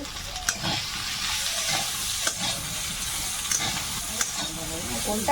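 Steady sizzling of food frying in a wok, with intermittent scraping as a utensil stirs and turns it, close and continuous, no voices.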